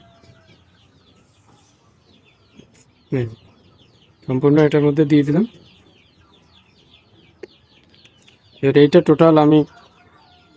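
Chickens cluck in a few short bursts, loud and close, separated by quiet stretches, with a person speaking briefly between them.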